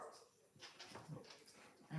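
A dog gives a few soft yips and whimpers, close and fairly quiet, with a person speaking nearby.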